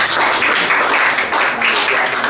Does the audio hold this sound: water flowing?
no